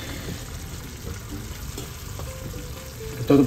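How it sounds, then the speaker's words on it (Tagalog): Beef being sautéed in a pan for Filipino bistek, a steady close sizzle and frying crackle with a brief louder stir at the end, no talk. "Gisa lang po natin ng maayos."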